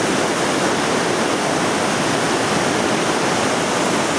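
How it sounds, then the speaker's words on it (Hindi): The Kabul River rushes down from the mountains of the Kalash Valley, a loud, steady roar of churning water that fills the whole scene without a break. "ये दरियाए काबुल बह रहा है"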